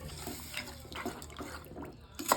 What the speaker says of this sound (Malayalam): നമുക്കിതിലേക്ക് ആവശ്യത്തിന് വെള്ളം ഒഴിച്ച് വെക്കാം.